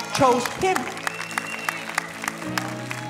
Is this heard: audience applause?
yes